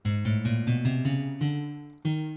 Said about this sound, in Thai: วูครับวูก็เป็นเสียงกีตาร์ครับ